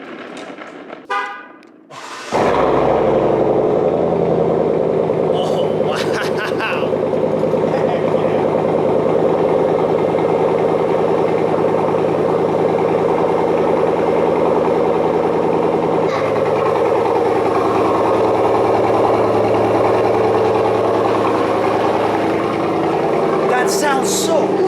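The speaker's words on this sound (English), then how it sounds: "here's a semi-cold start on a 2020 Silverado with the Borla S-Type catback exhaust system" A 2020 Chevrolet Silverado with a Borla S-Type catback exhaust cranks and fires on a semi-cold start, then settles into a loud, deep, steady idle with brief voices near the start and end.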